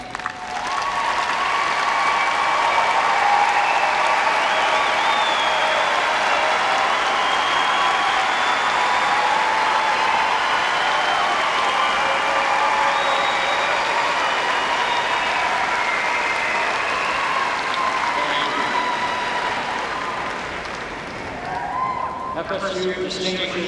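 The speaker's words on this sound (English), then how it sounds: "will you please stand so that" A large commencement audience applauds graduating honor students with a long, dense, steady ovation that fades slightly near the end.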